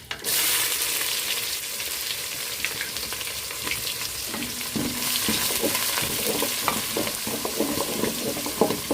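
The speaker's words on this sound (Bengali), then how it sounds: "পেঁয়াজটাকে ভালো করে ভেজে নিয়ে" Chopped onions frying in oil with fenugreek seeds for chicken bhuna khichuri, a steady, close sizzle running throughout with intermittent stirring scrapes; no talking.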